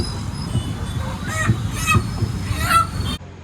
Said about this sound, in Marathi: आपण गावठी कोंबडा बघतोय